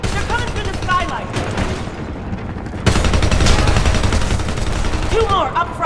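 Covering gunfire in the Homefront video game, dense and continuous throughout, with a sharp louder burst near the middle and other battle noise mixed in.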